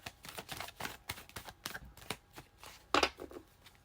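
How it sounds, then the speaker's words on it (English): Tarot cards shuffled by hand at close range, a run of quick, crisp riffles and soft slaps in an irregular rhythm, with one sharper, louder burst near the end. "More shuffle."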